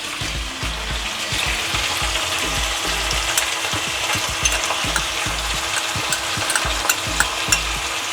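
Ginger garlic paste sizzles and fries in a hot pan for a green chicken curry, a steady loud crackle with scraping stirs and small clicks of a spoon against the pan throughout, no voices.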